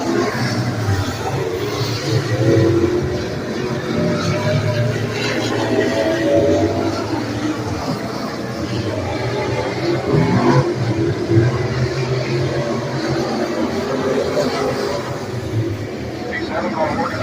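Race cars running hot laps at Beckley Motor Speedway during the Paul Barley Memorial, a steady engine drone throughout with a commentator talking over it.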